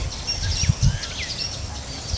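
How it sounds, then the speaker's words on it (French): Small birds nesting in coconut palms give faint, scattered chirps over a low rumbling background, a few brief calls drifting in and out. "les oiseaux qui ont fait leur nid"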